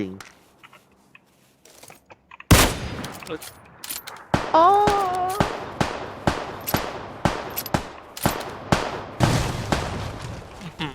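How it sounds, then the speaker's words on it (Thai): A sudden loud car explosion in PUBG Lite is followed by repeated sharp gunfire-like bangs in a steady rhythm, with occasional speech over the action. "รถระเบิดแต่มันไม่ตาย"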